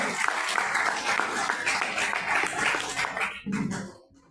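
A crowd claps at a temple satsang gathering, a dense burst of applause that carries on for several seconds and then tapers off near the end.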